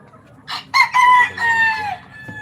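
A pet rooster crows loudly and close by, one harsh drawn-out call lasting about a second and a half, ending with a faint cluck.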